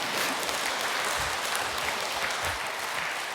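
An audience breaks into continuous applause, a dense and even wash of many hands clapping at moderate loudness from start to finish.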